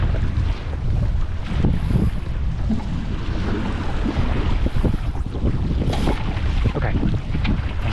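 Wind roars across the microphone aboard a 29er sailing dinghy in a gust, a loud continuous rushing buffet with water hiss and hull slaps underneath.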